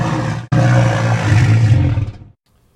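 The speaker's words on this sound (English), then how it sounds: "So that's a walrus with a pitch down." A loud, deep walrus roar, pitched down, bellows for about two seconds, briefly broken near the start, then cuts off into silence.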